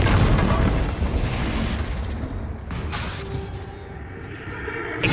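A Confringo fire spell detonates in Hogwarts Legacy, a loud booming burst that rolls into a long crackling, rumbling decay, with a second fainter swell of debris noise toward the end.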